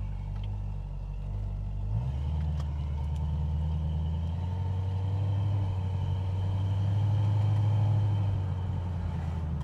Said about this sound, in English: you get to appreciate the engine sounds